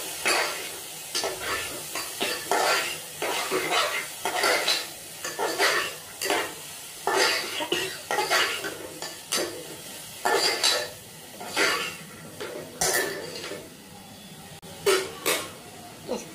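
Chopped bottle gourd being stirred in a pot for lauki dal, a steady run of scraping spoon strokes and soft sizzling, close and clear with no talking.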